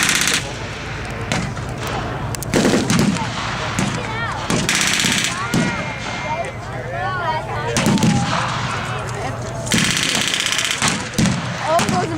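Heavy gunfire and explosive blasts in a World War II video game featuring a Panzerschreck rocket launcher, repeated loud booms and rattling shots over a continuous battle din, with a voice speaking in between.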